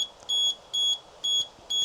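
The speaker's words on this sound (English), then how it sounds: "There's the horn there, which is a very high-pitched beep." A high-pitched electronic horn on an Easwe M10 foldable electric mobility scooter gives four short, evenly spaced beeps, close and clear over a quiet background.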